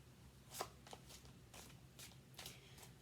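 Tarot cards being shuffled by hand in a series of quick riffling bursts, separated by short pauses, close and moderately quiet with no talking.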